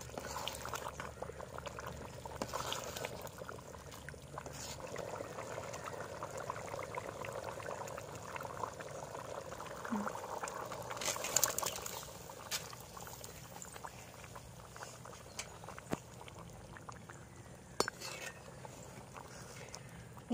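Egg gravy boiling and simmering down in a pan, a steady low bubbling and hiss with occasional soft clicks, fairly faint and continuous, with no voices.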